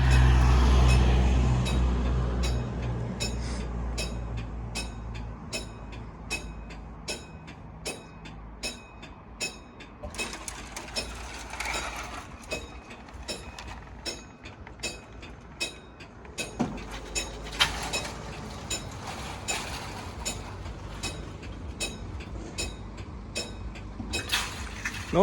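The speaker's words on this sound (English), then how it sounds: "Noisy barriers that are wrecked." Level crossing barriers at St Denys, worn and noisy, operate beside a railway line, with a steady rhythmic ringing of warning alarms running throughout over low traffic and rail rumble.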